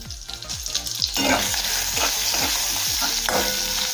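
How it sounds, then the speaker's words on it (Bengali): Halved small brinjals fry in hot oil with a little salt and turmeric, giving a loud, steady, close sizzle with repeated spatula stirring and scraping throughout. "তেল গরম হয়ে গিয়েছে তেলের মধ্যে দেবো বেগুন বেগুনের মধ্যে দেবো অল্প পরিমাণে লবণ হলুদের গুঁড়ো"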